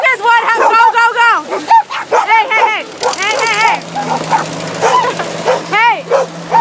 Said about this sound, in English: Sorry about that, but dogs bark.